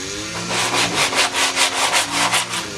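Sandpaper rubs steadily back and forth across a wooden coat rack in an even rhythm of about ten rasping strokes, close and loud.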